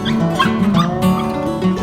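A small dog yips and whimpers close by near village houses in Puerto Iguazú, Argentina, a few short excited barks over about two seconds, loud and alone.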